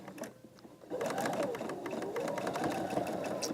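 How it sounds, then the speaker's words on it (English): Sewing machine stitching a quilt block seam, starting after a short quiet lead-in and then running in a steady, close, rapid needle rattle with a wavering motor whine. "I'm just going to start sewing here"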